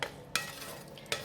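Ground beef with basil leaves being stirred in a hot pan, two sharp scraping strokes of a utensil over a faint steady sizzle, quiet and close.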